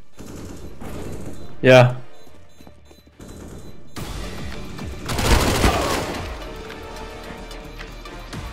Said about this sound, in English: Someone's shooting on my back. Has an AK, right?